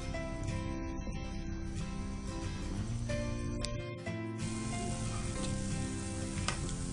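Gulab jamun fry in oil over medium heat while being stirred gently, giving a steady, close sizzling hiss that runs evenly with a few faint clinks.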